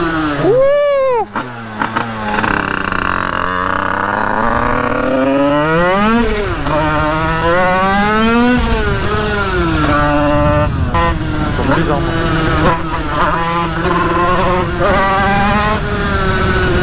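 A 50cc motorcycle engine, running lean at the top end, revs high and hard, its buzzing pitch climbing and sweeping up and down repeatedly in a loud, close, continuous run.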